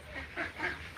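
Ducks quacking nearby as they are being fed, giving two or three short, nasal honking calls in quick succession, fairly close and with no talking over them.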